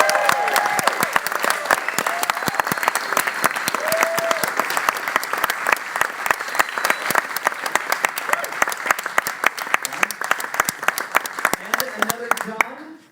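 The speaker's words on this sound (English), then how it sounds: "Please welcome with a big round of applause" Sustained audience applause at a Halloween Horror Nights Q&A welcoming horror director John Landis, dense steady clapping filling the whole stretch with brief voices over it early and near the end.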